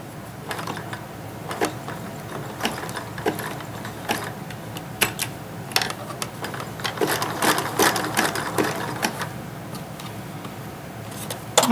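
Domestic sewing machine running a short zigzag stitch on small doll panties, a steady fast mechanical whir with rapid needle clicks throughout, close and continuous with no talking.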